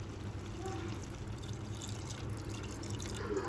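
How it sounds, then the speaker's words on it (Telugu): Water pours and splashes into a pot of chicken for gravy, a soft continuous trickle heard up close against low background noise. "వాటర్ యాడ్ చేసుకుందాం"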